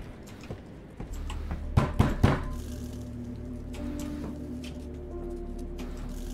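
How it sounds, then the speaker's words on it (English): Several heavy thuds of knocking on a front door late at night in the horror game Fears to Fathom: Woodbury Getaway, a quick cluster of three loud knocks standing out over a steady low rumble of ambience. "I know it ain't ideal banging on your door in the middle of the night"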